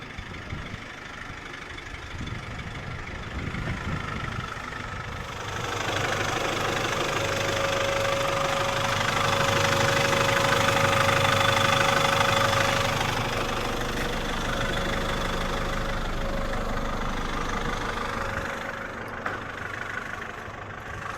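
Mercedes Sprinter van engine on a test drive, a steady mid-pitched drone with road rumble that swells louder through the middle and eases off near the end, with no voices.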